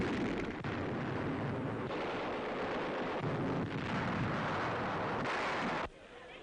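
Dense, rumbling gunfire and blasts roll continuously during the 1944 Allied advance into Paris, heavy and loud on an old wartime newsreel track, then cut off abruptly near the end.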